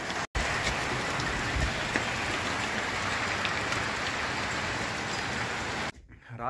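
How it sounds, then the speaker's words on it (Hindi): Heavy rain drums steadily on a tin roof, a dense continuous patter that cuts off abruptly near the end. "इस बाहर देखो पूरी झमाझम बारिश हो रही है।"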